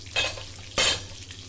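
Pieces of Thattukada-style chicken fry in hot oil as they are turned, with two sharp surges of loud sizzling over a steady background crackle, close by, with no voices.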